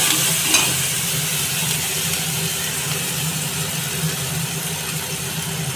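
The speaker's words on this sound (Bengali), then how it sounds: "ভালো করে একটু কষিয়ে নিলে আদা আর রসুনের গন্ধটা উড়ে যাবে" Ginger and garlic paste sautés in a pan with a dense, steady sizzle and hiss that runs the whole time. It is close and fairly loud, with a faint stir near the start.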